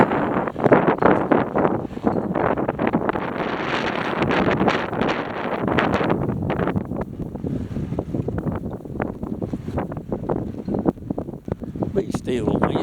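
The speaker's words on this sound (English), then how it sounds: "Be still, wind." Strong wind buffeting the microphone outdoors in a cemetery, a loud, constant rumbling roar that persists throughout, with a person speaking underneath it.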